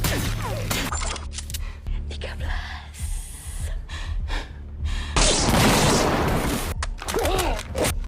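Grenade blasts in a film action scene, with a masked helmeted attacker wiping out a squad of agents: heavy booming bursts and shattering debris, the loudest around the middle and near the end, amid gasps and vocal reactions.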